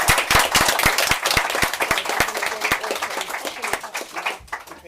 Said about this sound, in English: if we could give Dehenna a round of applause